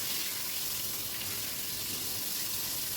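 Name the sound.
tomatoes frying in oil in a wok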